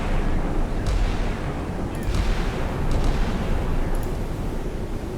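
Naval gunfire from warships engaging a missile battery in the Sea Power naval combat game: a dense, rumbling barrage of distant booming shots over continuous low roar, with a few sharper reports standing out.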